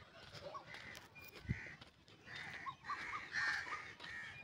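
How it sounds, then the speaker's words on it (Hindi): Several crows caw repeatedly in a village in the evening, a mix of near and farther calls scattered through the clip with a quiet outdoor background and other birds faintly audible. "ये देखें कवे भी काहें काहें कर रहे हैं"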